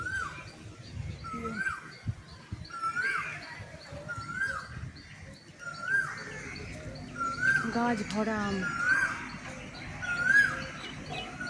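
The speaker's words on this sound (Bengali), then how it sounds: "কোকিল পাখি ডাকছে দেখো" A koel calls repeatedly from trees near a house, a series of rising whistled notes repeated in a steady rhythm over a cloudy sky, with other birds chirping. A person talks over it at times.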